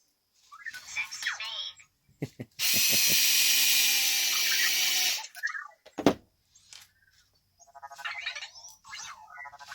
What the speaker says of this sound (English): I'm just going to take my driver and put the 4 screws back in.